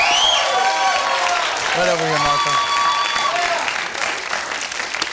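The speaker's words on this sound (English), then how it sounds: "Give a round of applause, you guys." Studio audience applause on a television dating game show, a steady wash of clapping and crowd noise that carries throughout, with a host speaking over it.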